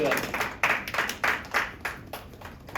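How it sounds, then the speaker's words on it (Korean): A church high school youth group congregation claps in thanks during a Sunday worship service, a loose run of clapping bursts that rise and fade in waves, with a voice speaking over the applause. "우리도 이것도 감사의 박수로 함께 하겠습니다"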